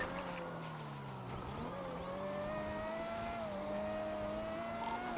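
A car engine in a police chase in the video game GTA drones and revs continuously, pitch rising and dipping as it speeds along, with faint tire squeals; no voices.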